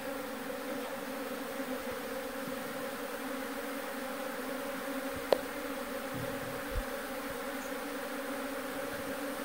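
Indian honey bees (Apis cerana indica) buzz softly and continuously around a hive box as they make their way inside, with one brief sharp knock partway through.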